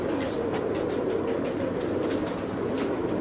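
Kasuri breed pigeons cooing in a soft, continuous low murmur over a steady background hum, close and moderately loud, with no talk.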